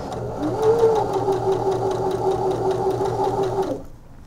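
A sewing machine stitches a bias facing in one steady, continuous run with a rhythmic mechanical whir, close and alone, then stops near the end.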